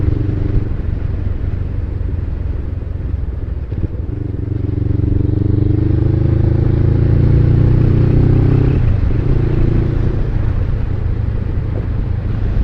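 A Suzuki SG500 motorcycle is ridden at speed, its engine a loud, steady, close-up drone with wind rush that rises in pitch, then briefly dips and settles as the gear changes near the end.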